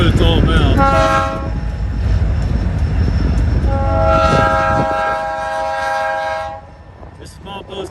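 A new blue engine and a switcher locomotive work a railroad wye up a hill, sounding two long, loud horn blasts over a constant heavy engine rumble and rail noise.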